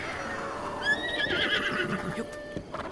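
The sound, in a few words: summoned horse neighing in video game Zelda Breath of the Wild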